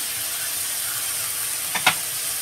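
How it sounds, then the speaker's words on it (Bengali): Spice paste fries in hot oil with browned onions, giving a steady bright sizzling hiss with a couple of small sharp pops near the end. "পেস্ট করা মশলা দিয়ে আরও আমি কিছুক্ষণ 1-2 মিনিট ভেজে নেব"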